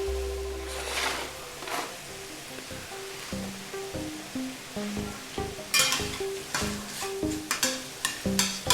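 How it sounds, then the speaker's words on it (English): Ground meat sizzles and crackles in a frying pan for a hashbrown breakfast casserole, with a spatula repeatedly scraping and breaking it up in uneven strokes, close and steady. "Breaking up that meat so it cooks"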